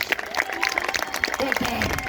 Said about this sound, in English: give it a shot, give it a round of applause